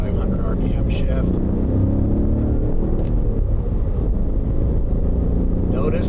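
A car engine rumbles steadily close by for the whole stretch, with some rises in pitch as gears change and faint voices over a constant low drone.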